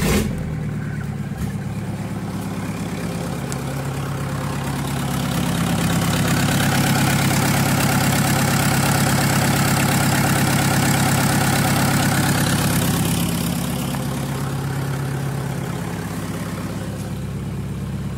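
Freshly swapped Toyota TDI diesel engine in a 1991 Toyota running just after its first startup, a loud close rumbling idle that swells for several seconds mid-clip and then settles back down, with no talking.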